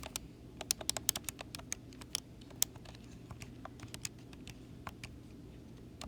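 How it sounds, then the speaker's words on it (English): Quick, light key presses on a calculator as a compound interest calculation is entered: a scattered run of sharp, close clicks over about six seconds with a soft room hum underneath and no talking. "So I'm going to type this in my calculator."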